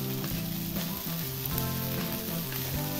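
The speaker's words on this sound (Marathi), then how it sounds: "आता मिरच्या चांगल्या भाजून घ्यायच्या।" Green chillies frying hard in oil over high heat for Kolhapuri kharda, a dense, continuous close sizzle and crackle that holds steady throughout, with no voices.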